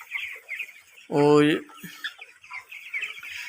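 A flock of about 1,200 chickens in a poultry shed, some suffering from gout, gives one loud, harmonic squawking cluck midway, rising above a constant low chatter of birds while a person briefly speaks.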